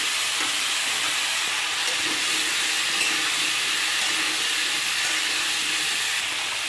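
Cut vegetables and large pumpkin chunks sizzle in hot oil in a pan, a steady, loud, broadband frying hiss that continues evenly without pause.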